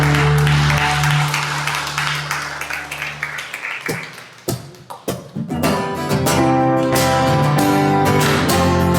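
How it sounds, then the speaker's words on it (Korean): A congregation at a Korean Sunday church service gives applause: music and sustained sound fade into a few seconds of scattered claps, then full worship music with singing returns. "우리 살아계신 예수님께 영광의 박수 올려드리겠습니다."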